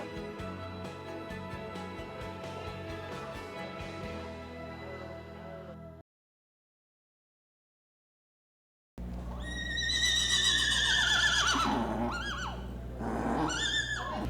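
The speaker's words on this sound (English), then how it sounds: "The miniature horses are a size breed." Miniature horses whinnying loudly and close, a shrill neigh with falling pitch sweeps after a stretch of other sound and a short silent gap.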